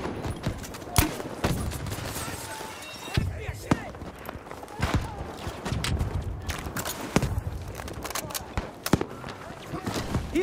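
Chauchat machine gun fire in Battlefield 1 on the Operation Underground map, repeated bursts of close shots with scattered distant gunfire and footsteps, while soldiers shout in the background.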